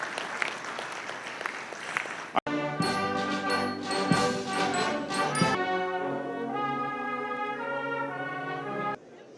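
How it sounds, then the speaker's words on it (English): An audience at a Kenya-EU signing ceremony claps in a dense burst of applause for a couple of seconds, which cuts off abruptly and gives way to loud music. "Let's give them another round of applause"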